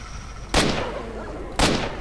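Two loud, close gunshots about a second apart in S.T.A.L.K.E.R.: Shadow of Chernobyl, each a sharp crack with a decaying tail over low background noise.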